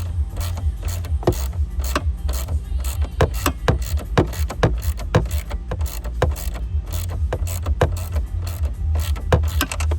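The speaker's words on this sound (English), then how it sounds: "I'm using a 13 millimeter deep socket" A ratchet fitted with a 13 mm deep socket works on the seat bolts of a 2015 Dodge Ram 3500, giving a fast, steady series of sharp clicks over a low mechanical hum.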